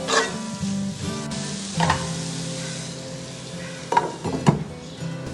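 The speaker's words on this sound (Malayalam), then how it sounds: "നമ്മളെ ബീഫിൻ്റെ മസാലക്ക് ഇതാ വെളുത്തുള്ളി ഇഞ്ചി പച്ചമുളക് ചതക്കിയത് ഞാൻ ഇടുന്നു." Crushed garlic, ginger and green chilli frying in hot oil as the base of a beef masala for pressure-cooker beef biryani, a steady close sizzle with stirring scrapes and a few louder clinks, no talk.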